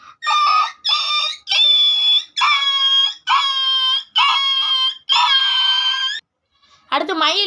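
A man vocally imitates a small puppy crying, repeating seven loud, high, whining wails in quick succession before a short break and a final rougher cry.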